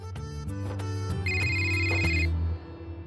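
A phone rings with a loud, repeating electronic melody of bright tones in a tight rhythm, close and alone for about two and a half seconds before stopping.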